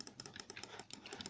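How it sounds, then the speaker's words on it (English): Computer keyboard and mouse clattering in rapid, continuous clicks during a Minecraft gaming session, faint and close with no talking. "sorry if you can hear, like, my mouse and keyboard"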